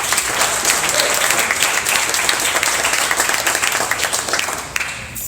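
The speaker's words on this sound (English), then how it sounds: "So please give a big round of applause for Google's deployment in the city of Atlanta." A crowd applauds at a civic event in Atlanta celebrating the arrival of Google Fiber, a thick, continuous wash of clapping held loud and even for several seconds before starting to thin out at the very end.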